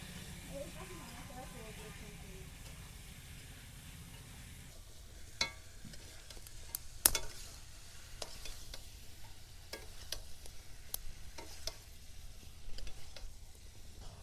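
Marinated chicken drops into hot oil with spice tempering, setting off a broad hiss and sizzle that settles into steady frying with scattered pops and stirring clatter, close and moderately loud, with no talk.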